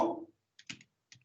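A few quick keystrokes on a computer keyboard while entering a switch command, soft clicks in two small bursts following a fading trailing word.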